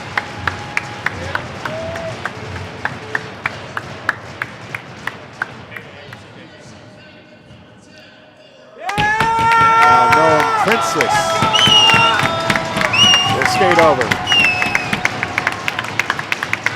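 Crowd at a youth ice hockey game between the Memorial West Whalers and the Pearland/Friendswood Flyers. A public-address voice speaks first over faint rink noise, then loud crowd cheering and noise swell and carry on to the end.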